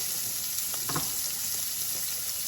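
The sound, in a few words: garlic sizzling in a heated skillet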